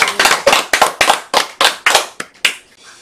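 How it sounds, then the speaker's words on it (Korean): At a church sermon, a congregation claps in about a dozen sharp, distinct bursts that come close together and then thin out to a few final claps. "공감하시는 분 박수"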